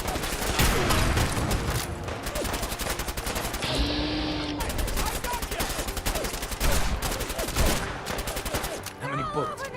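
Gunfire in Fallout 4 with the Sim Settlements 2 mod, fought against gunners: rapid, loud bursts of shots and automatic fire crack repeatedly across nearly ten seconds, with brief pauses between volleys.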